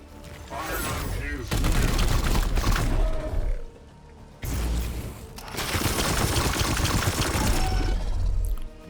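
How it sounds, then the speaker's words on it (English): Sustained bursts of automatic support fire in the Warhammer 40,000: Chaos Gate – Daemonhunters video game, loud dense rattling volleys with a brief lull midway before the barrage resumes and continues to the end. "Love the support fire, always forget about it"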